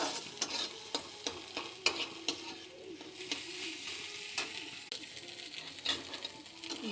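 Scrambled egg bhurji frying in a little oil, a quiet, steady sizzle with frequent light clicks and taps of a spatula stirring the pan.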